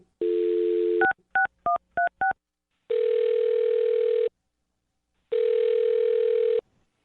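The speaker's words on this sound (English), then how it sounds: "I'll dial her phone number right now and see if we can figure it out" A telephone dial tone, then five quick touch-tone digits, then two long ringback tones separated by silence, all clean and loud.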